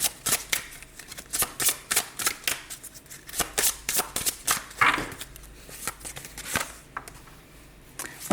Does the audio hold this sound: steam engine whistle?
no